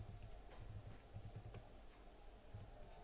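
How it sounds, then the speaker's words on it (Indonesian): Values keyed into an Excel spreadsheet on a computer keyboard: soft, faint, uneven taps over a dull background hum. "Di sini terlebih dahulu kita ketikkan nilainya terlebih dahulu."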